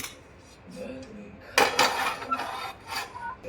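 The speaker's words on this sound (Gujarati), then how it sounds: "ગેસ જગાવીને કઢાઈ મૂકીશું." A kadhai pan set down on a gas stove while cooking pizza toppings at home, heard as a sharp metallic clatter followed by a few lighter scraping clinks of cookware, fairly close and without speech.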